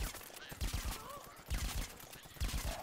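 Rapid rhythmic weapon fire in Plants vs Zombies Garden Warfare 2 pops in repeated bursts, fairly loud and close, with game effects layered over it.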